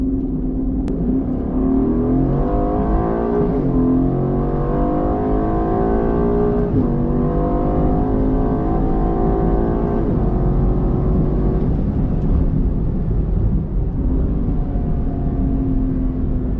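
Aston Martin Vantage F1 Edition engine, loud and close, rising and falling through steady revving pulls and gear changes with a continuous throaty roar, no talking.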